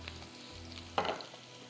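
Ginger sizzling in hot oil in a pan for a tarka over an adrak gosht dish, a soft steady frying hiss with a brief louder crackle partway through, no voices.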